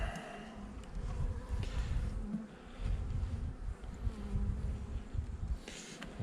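Honeybees buzz around a small queen bee, a dense, steady hum close by that wavers in loudness throughout, with no voices.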